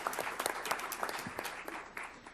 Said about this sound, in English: And I want you to applaud them.